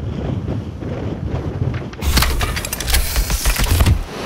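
Wind and waves at sea aboard a racing sailboat, a low rushing roar that suddenly grows much louder and harsher halfway through, with gusting buffets and splashes close to the microphone.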